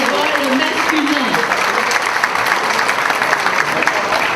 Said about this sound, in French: C'est le temps, une bonne main d'applaudissements pour nos bénévoles masculins.